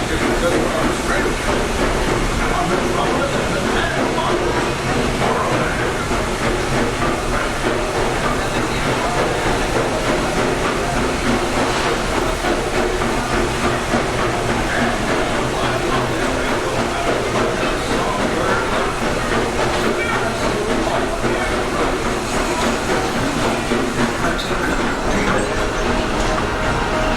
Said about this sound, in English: Locomotive maintaining trajectory.